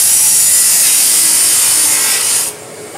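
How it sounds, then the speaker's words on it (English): A cutoff saw with a dust collection system cuts steel components for ice rink equipment, giving a loud, steady hissing, grinding whine that drops off sharply near the end. "The process involves setting up a jig and using a cutoff saw with a dust collection system."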